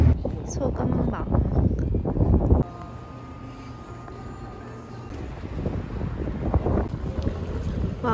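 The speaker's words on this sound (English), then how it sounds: "Wow, it's windy." Strong wind roars across an outdoor microphone in a continuous rough rush that drops briefly, then builds again, while people talk over it.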